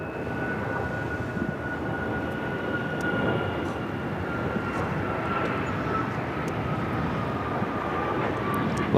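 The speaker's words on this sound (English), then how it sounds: "This is United Airlines 2667 taking off to Washington Dulles on the MAX 9" A United Airlines Boeing 737 MAX 9 takes off at LAX, its loud jet engine roar rolling steadily with a rising whine, close and continuous throughout.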